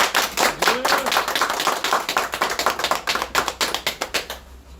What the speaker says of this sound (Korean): 먼저 우리 영등포 당사 시대를 자축하는 의미에서 큰 박수 한번 칩시다.